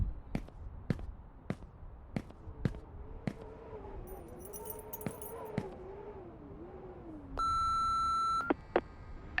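Electronic beeps from a phone's voicemail in the horror game Remothered: Broken Porcelain, with a sustained tone near the end, set over a humming ambient game soundtrack with sharp periodic clicks.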